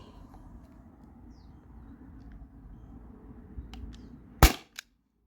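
A T4E HDP50 CO2 pistol fires steel balls: one sharp loud crack near the end after quiet background hum, followed by a brief second knock.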